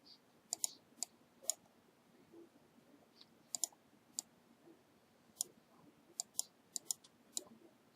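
Computer mouse clicks in cutting software for a craft print project, sharp isolated ticks spaced irregularly over a quiet background, sometimes in quick pairs.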